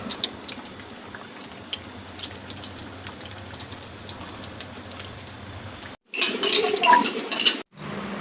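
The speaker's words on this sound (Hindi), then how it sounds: "देखिए अब हल्की आंच पे इसको ब्राउन होने तक जो है अच्छे तरीके से हमने फ्राई कर लेना है" Samosas fry in hot oil in a pan over low heat, giving a steady dense sizzle and crackle for six seconds, then a brief louder, brighter burst of spattering after a short break.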